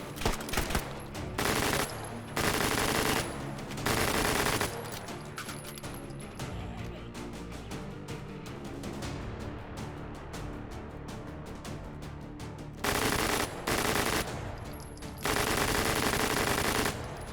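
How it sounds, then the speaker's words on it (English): Repeated bursts of very rapid automatic gunfire from a fast-firing rifle in the VR shooter H3VR, each burst loud and close with short pauses between, over a lower continuous background rumble. "This gun fires way too fast."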